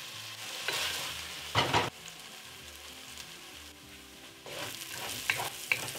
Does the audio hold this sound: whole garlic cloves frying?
yes